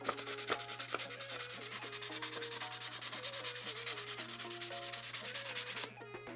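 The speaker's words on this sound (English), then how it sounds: "maybe hit these with some sandpaper. We'll start with a more coarse grit and kind of work our way up to something a little bit finer" Sandpaper rubs back and forth over metal Tomenosuke Blade Runner blaster kit parts in quick, even strokes, a close, rhythmic scratchy rasp repeating steadily for about six seconds over a faint background hum.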